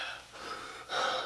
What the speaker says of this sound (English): Because I'm breathing in air.